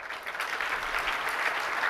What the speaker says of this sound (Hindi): ये ताली कहाँ क्यों बज रही है?